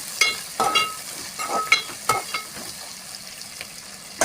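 Four long-slit green chilli pieces hit a hot pan and crackle, sputtering in close, irregular bursts of sharp sizzle over a faint steady hiss, with no talking.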